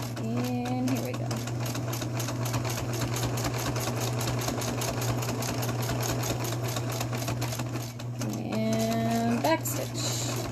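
Sewing machine stitching a fabric face mask, running in a steady loud whir through most of the stretch, briefly pausing for back stitches, with a person talking over it.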